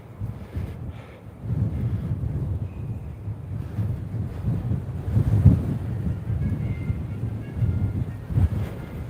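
Wind buffets a microphone on a winter walk, a continuous low rumbling roar with gusty swells across the whole stretch, close and moderately loud, with no talk.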